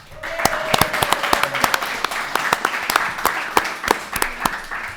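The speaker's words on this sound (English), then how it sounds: "let's get one more round of applause." Audience at an accelerator program's final presentations clapping, with distinct individual claps in an uneven rhythm over a thinner background of applause, suggesting a small room rather than a large hall.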